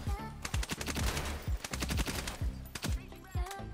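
Rapid hipfire from a Honey Badger assault rifle in the shooter game Ironsight, sounding as loud, punchy automatic bursts with short pauses between them.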